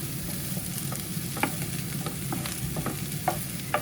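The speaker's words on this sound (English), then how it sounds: "toss around in the pan for a couple of minutes" Ingredients for a homemade Chinese-style curry are tossed and stirred in a frying pan under a steady close sizzle, with scattered scraping knocks from the utensil and no talking.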